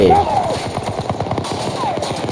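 Rapid automatic gunfire in Battlefield 2042, a dense rattling burst of close, loud shots fired in quick succession throughout, with a voice heard over the shooting.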